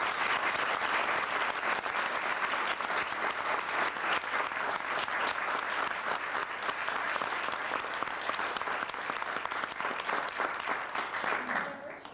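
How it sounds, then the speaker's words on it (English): A sustained round of applause from an audience at a company end-of-fiscal-year meeting, many hands clapping steadily and evenly for about twelve seconds before starting to fade at the very end. "so please give them a round of applause"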